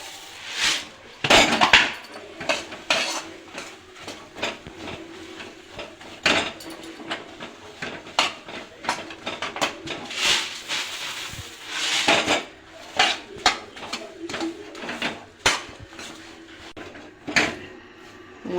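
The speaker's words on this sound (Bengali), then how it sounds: "এবার আমি মুড়ি দিয়ে দেবো, মুড়ি দেবো, নাড়তে থাকবো।" A spoon scrapes and clanks against a pan as puffed rice is stirred into melted date-palm jaggery, making irregular metallic knocks and rustling scrapes close up with no talking.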